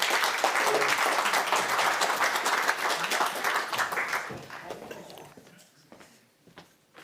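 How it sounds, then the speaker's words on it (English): A conference audience applauds as a speaker is introduced, dense clapping close and steady at first, then thinning out and fading toward scattered claps and quiet near the end. "A round of applause."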